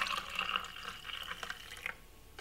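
Broccoli juice poured into a container in the kitchen, a steady liquid splash with a few drips, close and moderately quiet, tapering off toward the end.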